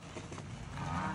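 A cow moos on a ranch in Baviácora, one drawn-out low call close by, fairly quiet, stretching across the whole moment.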